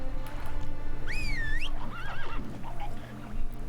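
Roach the horse lets out a loud, shrill whinny that rises and wavers, then a shorter snort-like neigh, over game background sound in The Witcher 3.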